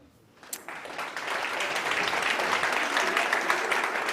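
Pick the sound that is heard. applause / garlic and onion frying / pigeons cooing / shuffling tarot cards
applause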